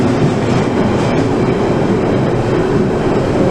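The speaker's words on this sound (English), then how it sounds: "So here we are, back on the Waterloo City line for the first time in over a year." Ride aboard a London Underground Waterloo City line train: a loud, continuous rumble of wheels and car noise with faint clicks, steady throughout, no voices.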